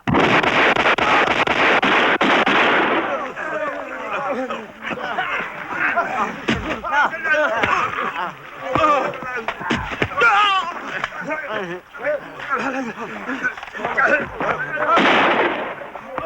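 Gunfire from soldiers in a 1978 Holocaust drama: a dense burst of rapid shots for about three seconds, then scattered loud cracks and bangs over shouting voices, with another burst near the end.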